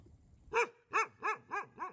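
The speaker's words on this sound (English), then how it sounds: "Oh, that's a dog." A dog-bark sample from a music sample library: a dog barks five times in quick succession, close and loud, with a steady rhythm and no other sounds.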